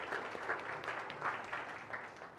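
An audience at a motivational talk claps in tribute to Thomas Alva Edison: a steady, dense wash of many hands with gently pulsing swells, moderately loud and continuous, with no voice over it.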